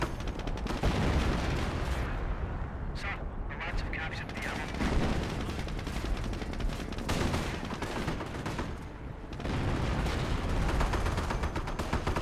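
Dense, continuous gunfire and artillery from a Company of Heroes World War II battle, with rapid machine-gun bursts and heavy booms packed together at steady high volume for the whole stretch, with no clear pauses.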